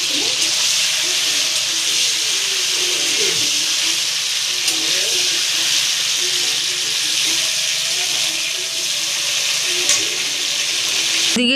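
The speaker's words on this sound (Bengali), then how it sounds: "এদিকে ফুলকপিতে ভাজা শুরু হয়ে গেছে" Cauliflower fries in a pan with a steady, close sizzle and hiss lasting the whole time, with faint kitchen clatter and no talk.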